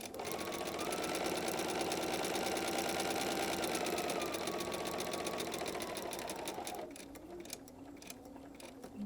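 A sewing machine stitches a quilted table runner in a fast, steady mechanical whir with rapid needle ticks, running loud and continuous before slowing and stopping near the end.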